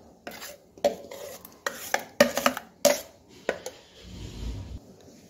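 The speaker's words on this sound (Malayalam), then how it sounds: "അപ്പം ഞാൻ അരിച്ചെടുക്കുകയാണ്" Ground carrot and lime juice is strained through a strainer, with close, irregular scraping, tapping and stirring knocks of a utensil against metal and a vessel, then a low rumble as it settles.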